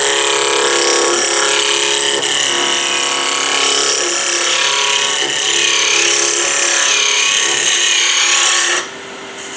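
Hand-held edge tool slicing through wood with the bevel rubbing, a steady continuous scraping rasp that holds loud and close for about nine seconds before cutting off abruptly.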